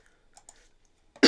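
A person with a cold and a sore throat gives one sharp, close cough at the end, after a few faint breaths and small mouth noises.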